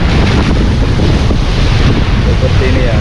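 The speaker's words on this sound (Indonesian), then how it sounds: "Laut Merah, kota Jeddah ya, memang ini ombaknya ngeri ya." Rough Red Sea waves at Jeddah crash and wash nearby in a dense, loud roar, with gusty wind rumbling against the microphone throughout.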